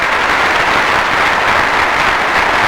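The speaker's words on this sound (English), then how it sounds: "Give them a nice round of applause," Audience at the 1991 Miss Indiana pageant breaks into loud, sustained applause, a dense wash of clapping from a large crowd that stays steady and close throughout.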